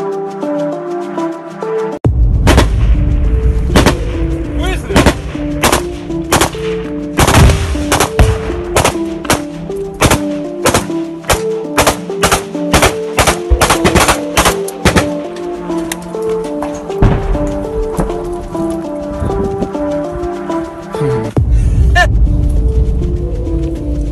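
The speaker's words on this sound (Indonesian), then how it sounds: "salah satu prajurit juga tampak melepaskan tembakan lainnya ke arah musuh" Soldiers fire guns at the enemy in urban house-to-house fighting, with loud, close, rapid bursts of gunfire and single shots, sharp cracks over roughly twenty seconds and a few brief pauses.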